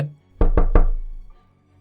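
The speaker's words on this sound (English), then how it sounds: "A knock petrifies me as a deep voice booms from behind the door" Three firm knocks on a door in quick succession, close and resonant with a short decay, alone with no talk.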